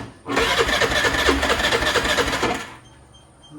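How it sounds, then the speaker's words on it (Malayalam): A vehicle engine fires up after a hard start on a rainy day and runs loud and steady for about two seconds, with a rapid even rhythm, then cuts off abruptly. "വണ്ടി ഓണായി സെറ്റായി"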